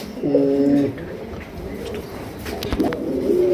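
A pigeon gives a few soft, low coos close by, pausing between calls, with faint background noise.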